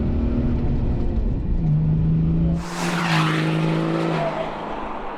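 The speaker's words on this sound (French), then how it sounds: "Allez, rupteur." A BMW E34 525 TDS diesel engine revs hard toward its rev limiter, a loud sustained drone whose pitch climbs and holds before a sudden shift to a brighter, rushing roar.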